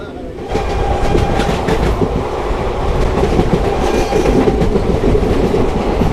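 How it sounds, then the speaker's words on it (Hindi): An Intercity Express train running from Kanpur to Lucknow switches railway tracks near a crossing, giving a loud, steady rumble with rhythmic clickety-clack of wheels over rail joints, heard up close from aboard the moving train. "हमारी ट्रेन जो है रेलवे ट्रैक चेंज कर रही है।"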